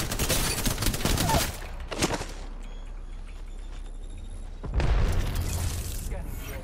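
Bursts of rapid gunfire in Apex Legends Season 6, loud volleys up front, a lull with faint distant shots, then another heavy burst, with a voice speaking during the exchange.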